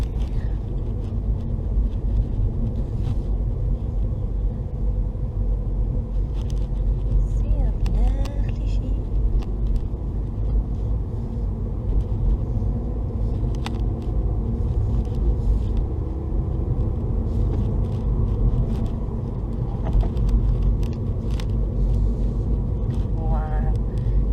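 A MINI Cooper S Works 210 three-door hatch drives at about 40 in a low gear, giving a steady interior engine and road rumble. Faint voices come and go over it.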